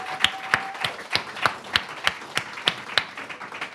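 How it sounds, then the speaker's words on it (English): Applause at a climate and anti-militarism forum, heard as a few distinct claps in a slow, roughly even rhythm of about three per second, crisp and close against a quiet room. "Let's give Linda a round of applause for all of our speakers and organizations."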